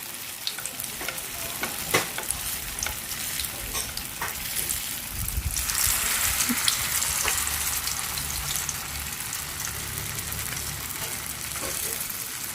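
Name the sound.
tofu skin frying in oil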